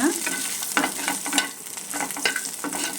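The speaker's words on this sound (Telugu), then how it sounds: "వేసి వేయించుకొని పోపు పెట్టుకోవాలి" Tempering spices with curry leaves sizzle briskly in hot oil for bottle gourd chutney, a steady crackling fry broken by repeated scraping stirs, close and alone without talk.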